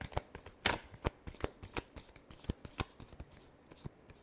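Tarot cards being shuffled by hand, a quick run of crisp riffling snaps and soft flicks at close range, fairly quiet and with no voice.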